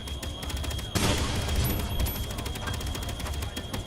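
Turret gunfire in Space Engineers: a sudden loud onset of rapid, repeated shots that continue steadily, with a persistent whine in the background.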